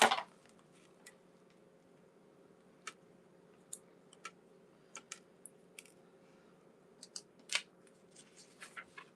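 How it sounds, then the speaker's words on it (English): Scissors snip in short, sparse, sharp cuts during order packing, faint and close in a quiet room with a low steady hum. "I can't find my scissors."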